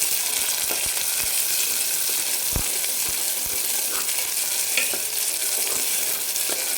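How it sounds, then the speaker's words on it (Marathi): A large chopped onion hits hot oil and fries with a steady, dense sizzle, punctuated by a few soft clicks and scrapes as it is stirred, close and continuous with no voices. "तर तेल छान गरम झाल्यानंतर एक मोठा कांदा कट केलेला आहे तो टाकू"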